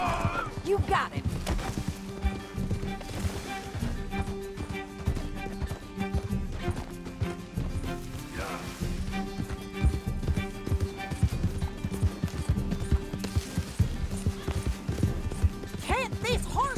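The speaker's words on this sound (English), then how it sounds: "Can't this horse go any faster?" Horse galloping in the video game Red Dead Redemption 2, rapid rhythmic hoofbeats throughout with game music and a chase scene, while characters shout over it.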